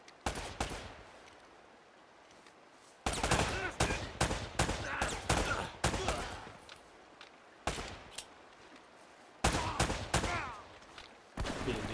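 Bursts of gunfire in Uncharted: Drake's Fortune Remastered on PS4 crack in rapid clusters, loud and sharp, with short quiet gaps between volleys.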